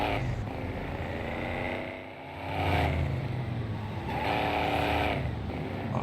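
Game car engine from Driver Parallel Lines, a muscle car resembling a Mustang crossed with a Camaro, droning steadily with a dip then surging revs throughout.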